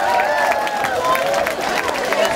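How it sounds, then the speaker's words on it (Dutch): Audience applause at a children's prize-giving ceremony, a dense crowd of clapping with some cheering and chatter, steady and close throughout. "Geef ze een daverend applaus,"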